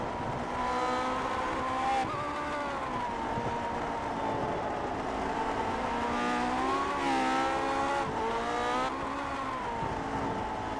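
Race car engines roar in a simulated championship round at the Nürburgring, a steady, loud, layered whine that rises and falls with gear changes as several cars run close together, with no talk over it.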